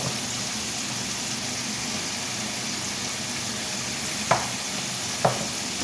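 Chicken breasts sizzle steadily in a hot pan while roasting, a continuous close frying hiss with two brief sharp clacks near the end as the pieces are turned.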